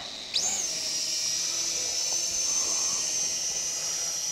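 Small DWI X35 beginner drone with an LED fan spinning up and hovering, a sudden high whine that holds steady and loud without any talk over it.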